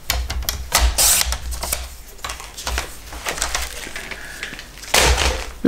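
Paper cut by hand for a pop-up album page, with close irregular crisp snips and rustling crackles, a louder burst near the start and another near the end.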